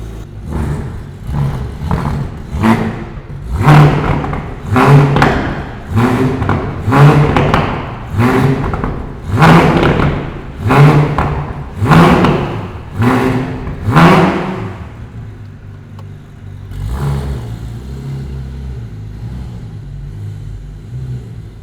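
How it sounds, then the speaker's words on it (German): Porsche 992 GT3 RS with a naturally aspirated flat-six revving hard in a garage, a series of about a dozen sharp, loud rev blips in quick rhythm, then a quieter idle and one faint final blip. "Dann merkst du noch richtig schön Pure Natural Aspirated Flat 6 Power."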